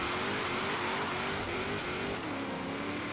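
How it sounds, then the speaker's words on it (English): Engine of a 750 hp 2014 Chevy Super Sport in a Forza Horizon 3 circuit race, a dense continuous roar with pitch dipping and rising through a downshift, loud and steady with no pauses. "Downshift."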